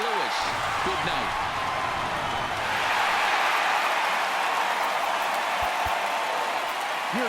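A stadium crowd in the baseball video game MLB The Show 19 cheers steadily. It is a dense, sustained roar that swells slightly midway, with a few low thumps near the end.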